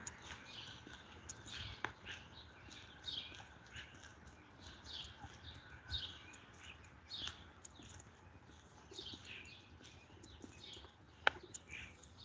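Faint outdoor birdsong with repeated short chirps and twitters at a distance, plus an occasional click or tap over a quiet background hiss.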